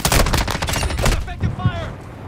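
Rapid gunfire in the Call of Duty Modern Warfare II video game, in dense overlapping bursts, loud and close, with a voice breaking in briefly near the end.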